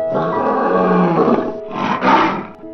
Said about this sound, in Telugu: ఆ మాటను వినగానే సింహం కోపంతో ఊగిపోతూ గట్టిగా గాండ్రించింది